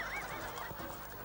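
A horse whinnies near a pen, a wavering high-pitched neigh over steady background noise, with no talking.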